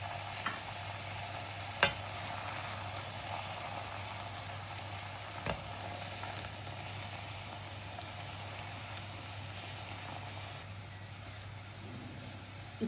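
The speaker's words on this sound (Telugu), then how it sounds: "ఇందులో ఈ ఉండల్ని వేసుకుని వేపుకోవాలి." Gulab jamun dough balls frying in hot oil on a stove, a steady, quiet sizzle that holds throughout with two soft clicks, no talking.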